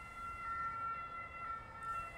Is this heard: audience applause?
no